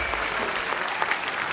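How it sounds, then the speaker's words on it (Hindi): A TV comedy show studio audience applauds enthusiastically, a steady wash of many clapping hands that fills the whole moment without pause. "तालियां जोरदार होनी चाहिए।"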